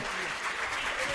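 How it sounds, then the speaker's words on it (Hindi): Enthusiastic applause from a large audience at a Jain religious discourse in Kishangarh, Ajmer, a dense, steady wash of clapping heard for a short moment. "एक बार जोरदार तालियों से अनुमोदना करें"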